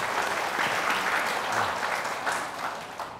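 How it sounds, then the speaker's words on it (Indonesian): Audience at an Indonesian health talk show in Purwakarta applauds its two speakers, a dense, steady wash of clapping that holds evenly throughout and tapers slightly at the end. "Tepuk tangan untuk dua narasumber kita."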